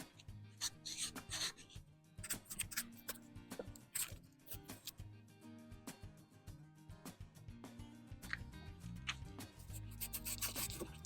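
Sandpaper rubs against the wheel of a 1948 Lionel Scout 1001 toy train in quick, irregular rasping strokes, close and fairly quiet, with a few sharper scrapes.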